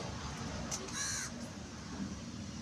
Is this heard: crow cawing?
yes